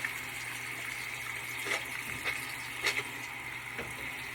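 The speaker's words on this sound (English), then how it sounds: "make sure that you wash your hands and aren't cross-contaminating. So I'm here just using a regular antibacterial soap" Running tap water splashes steadily while hands are washed with regular antibacterial soap, a continuous close gush with a few brief splashy bursts and no talking.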